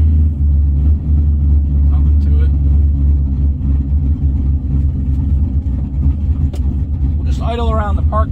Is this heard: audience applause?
no